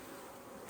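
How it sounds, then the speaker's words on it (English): Honey bees swarm across hive frames during a hive split, their dense, steady buzzing loud and close throughout with no voices. "Look at all those bees."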